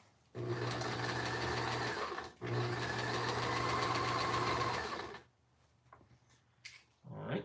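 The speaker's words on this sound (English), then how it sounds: "I don't want to stitch those ears down as I come around the horn here." A sewing machine stitches puppet fabric in two long, steady whirring runs, split by a short pause, before stopping; a person speaks briefly afterward amid light handling noises.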